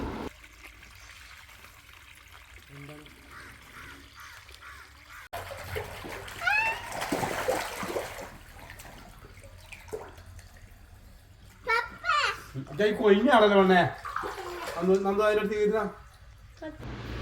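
Water is changed in a fish pond, with irregular splashing and sloshing bursts at moderate distance, while people talk over much of the sound.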